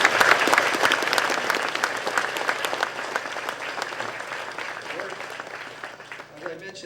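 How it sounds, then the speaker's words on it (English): An audience at a spring commencement ceremony applauds steadily in a large hall, a dense wash of clapping that slowly tapers toward the end. "Let's give them a round of applause for being here."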